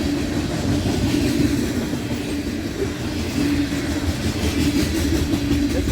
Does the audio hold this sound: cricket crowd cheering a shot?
no